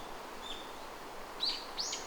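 Faint, brief bird chirps in a morning mountain forest, a few short calls rising over a soft steady background hush.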